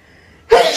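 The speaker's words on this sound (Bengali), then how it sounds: "বাবা হাঁচি কাশি সব হয়ে গেছে" A single sharp, close sneeze bursts out after a near-silent pause.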